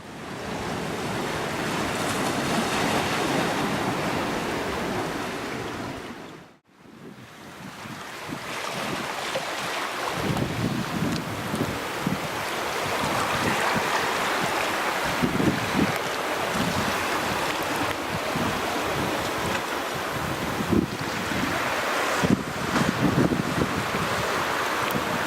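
Waves wash onto a small rocky beach at the Bay of Fires, Tasmania, with steady wind buffeting the microphone; a broad, continuous roar of surf and gusts, briefly dropping out before resuming just as full.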